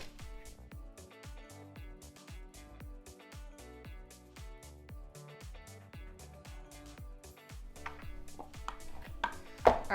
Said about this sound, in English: So first I'm going to cut along its width. And then when they're cubed up, you're going to put them into a side bowl.